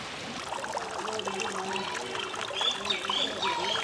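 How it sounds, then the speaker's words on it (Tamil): Water pours into a homemade waterfall fountain built from an old tyre, a steady splashing trickle with bubbling detail, close and moderate in level, continuous throughout. "ஆனால் கரெக்டாக அதுக்குள்ளே தான் ஊற்றுது."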